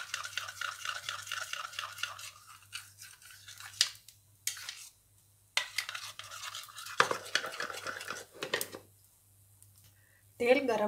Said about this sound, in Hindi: तब तक के लिए मैं इसको थोड़ा सा फेंट लूँगी।